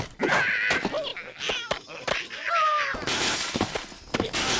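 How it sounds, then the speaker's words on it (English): A glass bridge shatters in the Angry Birds video game, with loud crashing and breaking bursts, tinkling fragments and game sound effects tumbling over several seconds, including bird squawks and a second big crash near the end. "Let's crush this glass bridge."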